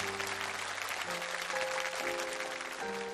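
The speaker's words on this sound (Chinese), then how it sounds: "我们掌声再给他一下" An audience at a televised awards ceremony applauds a teacher on stage, making soft, continuous clapping that sits low beneath sustained background music.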